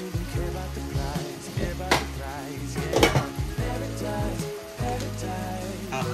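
Broccoli hits a hot pan with a steady hissing sizzle, broken by a few sharp clatters of pan and utensil around the two- and three-second marks, while music plays throughout.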